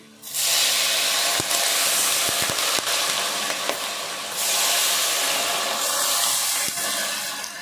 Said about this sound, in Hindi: तो अब ये ऑयल गरम गरम ना मैं डायरेक्ट इसके ऊपर डालूंगी